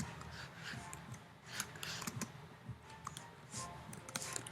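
Typing on a computer keyboard while entering a written summary, with scattered soft clicks and taps in an uneven rhythm over a faint background hum.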